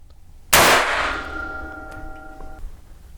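A single sharp report from a .22 WIN MAG rifle firing an Aguila semi-jacketed round, a loud crack with a ringing metallic decay, heard close and alone against a quiet background.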